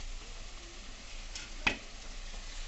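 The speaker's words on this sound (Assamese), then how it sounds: "এইখিনি দি অলপ দেৰি আমি ভাজি থাকিম, যেতিয়া কালাৰটো চেঞ্জ হ'ব" Ginger and garlic paste with onion fries in a pan for a taro leaf curry, giving a faint, steady sizzle with one brief scrape of stirring partway through.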